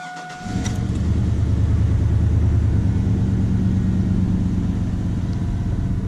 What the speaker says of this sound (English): I'm gonna crank it up right quick though.